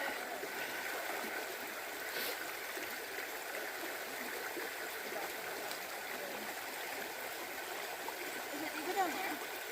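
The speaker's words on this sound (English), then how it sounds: "we have a creek we have to ford because they took the bridge out" A creek on the Appalachian Trail, where the bridge has been removed, flows in a steady, fairly faint rush throughout, with a few voices murmuring in the background.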